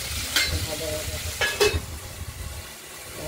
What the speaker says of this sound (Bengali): ডাঁটাটা একটু ভেজে নিই